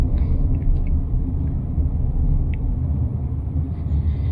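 Inside an electric car, the Radar RD6 EV, riding at 40 km/h: a steady low road rumble and tyre hum fills the cabin, fairly even and close, with a few faint high ticks and no talk.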